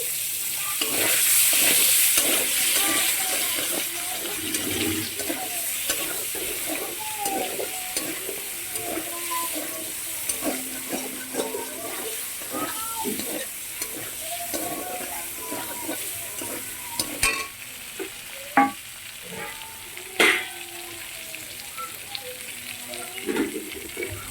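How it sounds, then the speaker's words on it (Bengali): Paneer fries crisp in a wok that is not hot enough and is sticking, giving a moderate sizzle at first that thins out amid repeated spatula scrapes and clinks, with a few louder knocks near the end. "পনিরগুলো যে আছে না ওটা কড়া কড়া একদম ভাজা হয়ে যাচ্ছে"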